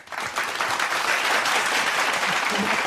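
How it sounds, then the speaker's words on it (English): Sustained applause from an audience at a welcome program in the Philippines, steady and full for the whole stretch, with no voices standing out. "Dr. and Mrs. Quito, let's give them a big round of applause"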